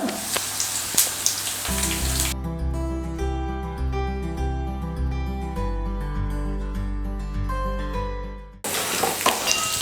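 Three dried red chillies sizzle and crackle in hot oil in a pan while a curry is being cooked, heard clearly at the start and again at the end, with a steady musical passage covering the middle.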